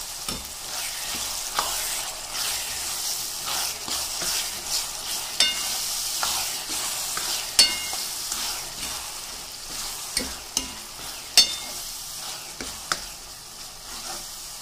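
Vegetables for veg biryani sizzle steadily in a hot pan while a spoon stirs them, with repeated scraping clicks and brief louder knocks against the pan, no one speaking.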